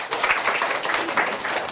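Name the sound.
class applause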